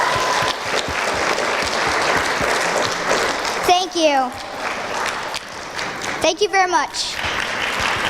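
Commencement crowd applause for teachers, parents, guardians and learning coaches fills the clip as a steady clapping wash, while a nearby voice speaks briefly over it.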